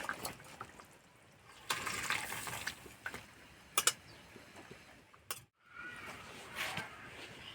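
Thin fish curry is poured into a serving dish, making faint, intermittent liquid splashes with light clinks and taps, all quiet and close.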